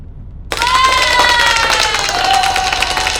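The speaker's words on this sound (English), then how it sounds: "Next time I want that applause, man. Y'all give me a round of applause, man." A studio audience breaks into loud applause and cheering after half a second of silence, with shouts and whoops rising over the steady clapping until the end.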